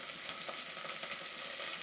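Onions fry in a pan with a continuous close hissing sizzle, even and moderately quiet, with no voices.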